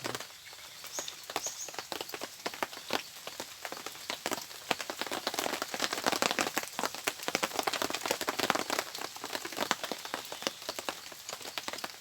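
Rain falls in a soft, continuous patter of dense drops striking surfaces, faint and even throughout with scattered louder ticks, no voices.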